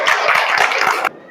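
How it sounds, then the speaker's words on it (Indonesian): A group clapping hands in unison in a classroom, a quick run of rhythmic claps that stops abruptly. "Tepuk tangan."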